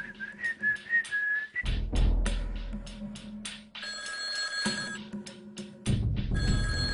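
A telephone rings in bursts of repeated bell-like tones, loud and close, broken by short pauses with a whistle-like tone at the start.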